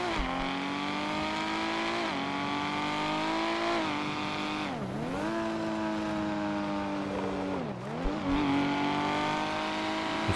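Car in the FiveM game near a Paleto location, its engine droning steadily at high revs with pitch dips as it shifts or brakes, loud and continuous across the whole stretch with no voices.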